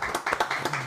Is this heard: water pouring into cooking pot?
no